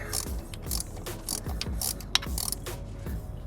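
A flex-head ratchet turns a bolt loose on the AC compressor of a Honda Civic, giving a steady run of close, quiet clicking pawl ticks with small metallic knocks, alone with no talk.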